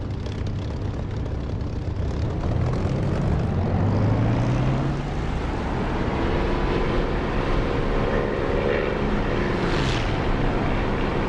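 A simulated propeller aircraft engine in the DCS flight simulator roars during takeoff, a loud, continuous drone with a rising, shifting tone that holds steady throughout.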